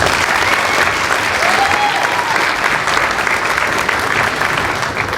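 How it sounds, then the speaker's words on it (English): An audience at a pageant gives a sustained round of applause, dense and steady clapping from a full room that holds at even strength throughout. "Let's give Charlie another round of applause."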